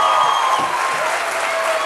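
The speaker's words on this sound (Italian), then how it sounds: "per favore, senti l'applauso della Bussola." Audience applause at La Bussola, the Marina di Pietrasanta venue, during a 1996 TV show: steady, dense clapping fills the room, close and loud, with a faint crowd murmur beneath.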